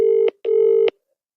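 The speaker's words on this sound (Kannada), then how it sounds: "ರಿಂಗ್ ಆಗ್ತಿದೆ." Two long ringback tones on an outgoing phone call, each a steady electronic burr ending in a click, separated by a short gap, clear and close with no talk.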